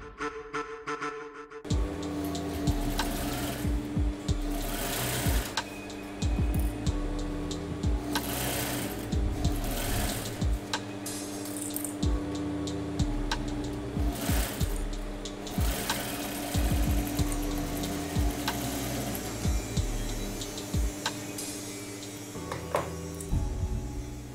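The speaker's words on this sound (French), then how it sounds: "Maintenant que nous avons fini de piquer, nous tournons le tissu" A sewing machine stitching fabric runs in steady, close mechanical bursts, its rapid needle chatter starting and stopping over about twenty-four seconds with no talking.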